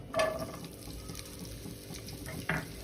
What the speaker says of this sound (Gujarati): હવે આપણે પનીર અને ડુંગળી સાતળી લઈશું તેલમાં થોડું